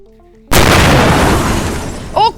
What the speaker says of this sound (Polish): kurde, wybuchło! O, o Jezu, o Jezu! Moje auto